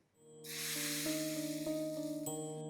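Hot mustard-seed tempering with asafoetida and curry leaves hits cooked dal for mango dal, bursting into a loud, sustained hiss and sizzle that swells quickly and holds steady, with faint ringing tones beneath.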